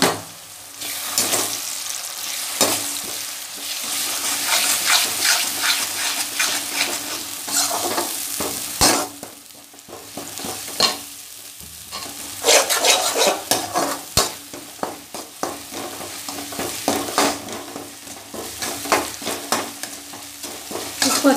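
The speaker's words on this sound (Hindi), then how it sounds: "अच्छे से हमने फ्राई करना है, इसका तेल अच्छे से निकलने लगेगा जब, तब तक हमने इसे भूनना है।" Onion-based gravy for jackfruit curry frying in oil in a pan, a loud continuous sizzle with repeated close scraping strokes of a spoon as it is stirred, pausing briefly now and then.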